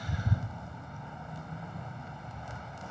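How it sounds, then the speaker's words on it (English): Wind buffeting the microphone at an observatory at night, a steady low rumbling roar with a stronger gust at the start and no voices. "The wind is just too much."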